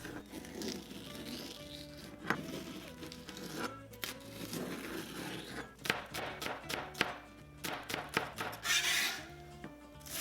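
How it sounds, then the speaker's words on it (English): A knife chops scallions on a cutting board in a home kitchen, giving a run of quick, faint taps and rubbing scrapes under soft background music. "And finally, chop the scallions"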